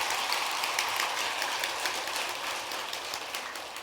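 Audience applause at a Buddhist Avatamsaka dharma assembly at a temple, a dense, steady wash of many hands clapping that fills the whole stretch, even and sustained, easing only slightly toward the end.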